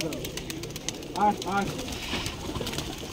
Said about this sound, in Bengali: শয়ে শয়ে কবুতর বাইরে খামারে আছে